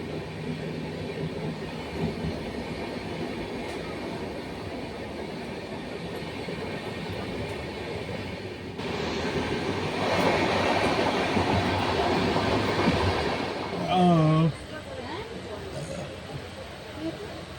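The 13151 Jammu Tawi Express rolls steadily after pulling out of Bardhaman Junction, a constant rumble of railcars with clickety-clack that swells louder midway, with a brief voice near the end.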